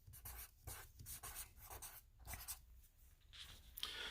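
Pen scratching on paper while a number is written down, a run of short close strokes in quick bursts with brief pauses, no talk.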